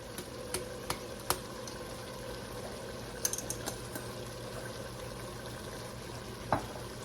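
Fresh garlic drops into a pan of dirty rice, which keeps up a steady soft sizzle and frying crackle, with a few sharp ticks and pops standing out near the end.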